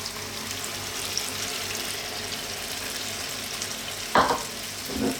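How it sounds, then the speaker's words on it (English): Coconut milk goes into a simmering chicken and sweet potato curry over a steady sizzle and bubble, with a couple of short splashing pours near the end. "What we're going to do now, we're going to add in our coconut milk."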